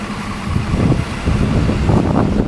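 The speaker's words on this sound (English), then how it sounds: "2 buses at the same time." Two buses passing at once on a street in Torre La Mata, Torrevieja, Spain, a close, loud engine rumble with wind-buffeted roar swelling and fading over a couple of seconds, no talking.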